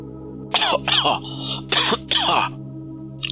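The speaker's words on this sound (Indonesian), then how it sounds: "Dia batuk, tersendak." A series of four rough, hacking coughs from someone choking, with a throat-clearing quality, close up over a steady low hum.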